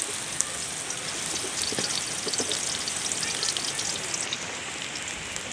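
Chopped garlic frying lightly in oil in a pan after browned onions, stirred gently, giving a steady soft sizzle with faint scrapes throughout and no talk.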